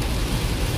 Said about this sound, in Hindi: ये रफ्तार जो है ना बारिश की, ये कुछ खासी रफ्तार है यार